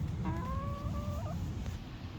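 Chicks in a brooder, being fed cracked corn and soldier fly larvae, give a few close, high, drawn-out peeping calls over a steady low background hum.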